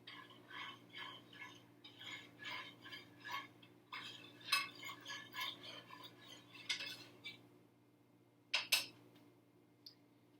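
A spoon stirring apple juice in a mug gives a run of soft rhythmic clinks and scrapes against the sides, followed by a few sharper taps ringing out near the end, close and quiet with no talking.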